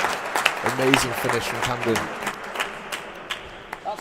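Spectators applaud a point during a real tennis doubles match at a world championship, a steady patter of many hands with a commentator's voice running over it.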